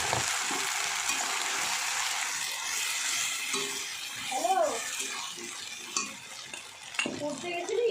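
Homemade spice mix sizzles with already-fried onions in a pan, a steady soft hiss and stirring scrapes running throughout, with a few brief clinks near the end and no talking.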